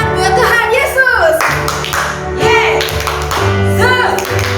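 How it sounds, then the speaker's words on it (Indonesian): Children clap along at an online Sunday school worship service in rhythmic bursts while a voice sings and talks over them, close and loud. "Tepuk tangan buat Tuhan Yesus."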